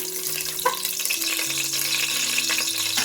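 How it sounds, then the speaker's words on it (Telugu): Star anise and bay leaf fry in oil for tomato rice, crackling and spluttering softly with scattered pops, while steady background music tones sit underneath. "ఇప్పుడు ఇవన్నీ చిట్టపట్ట అనేలాగా ఒక 10 సెకండ్లు వేయించుకుంటే సరిపోతుంది ఆయిల్లో"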